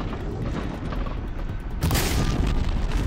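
Explosions in the video game Horizon Zero Dawn, a rumbling, crackling barrage of booms that swells into a louder blast partway through, with no talking.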